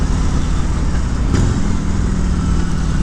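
A 2018 Harley-Davidson Breakout 115th Anniversary motorcycle rumbles at moderate pace during a ride, a loud, deep, steady V-twin throb with wind noise, close and continuous throughout without talk.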